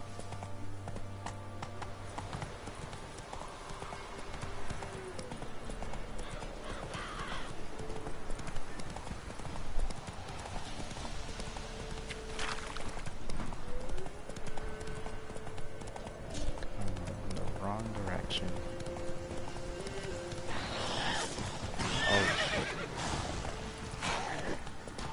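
Roach the horse gallops in The Witcher 3, hooves clip-clopping steadily for a long stretch beneath game music and ambient sounds, with a player's voice talking intermittently over it.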